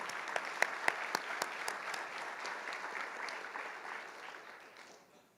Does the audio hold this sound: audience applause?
yes